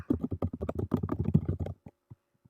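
Someone types a name on a computer keyboard while filling in a Google Forms parent survey. A quick, close run of keystrokes gives way to a few scattered taps before stopping.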